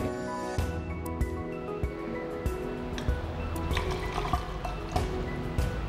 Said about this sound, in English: Now, we transfer this 100 milliliters into this 1000 milliliters cylinder.